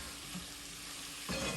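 Chicken and spices fry in a pan for chicken jalfrezi, with a soft, steady sizzle and a brief stirring scrape near the end.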